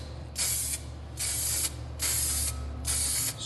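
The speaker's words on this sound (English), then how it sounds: "sprinkle your lacquer over there" Aerosol lacquer sprayed onto a black laminate worktop in four steady, evenly spaced bursts of bright hiss, each about half a second long, close and fairly loud over a low background hum.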